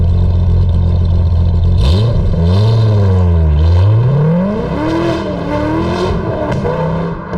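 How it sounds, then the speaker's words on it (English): A Corvette Z06 Carbon Edition V8 with stock exhaust, mufflers, X pipe and manifolds revs loudly up close, its deep rumble climbing and falling through several throttle blips, with no talking. "Stock exhaust, just with a fuse pulled. Stock mufflers, stock X pipe, stock manifolds. It sounds amazing."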